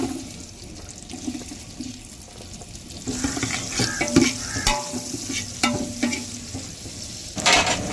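Onions fry in oil in a pot for chicken biryani, sizzling softly with stirring scrapes and clinks that grow busier partway through, with no talk over them.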